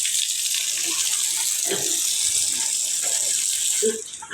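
Water gushing strongly from an electric pump's outlet, a steady loud broadband rush throughout with faint voices underneath, easing slightly near the end.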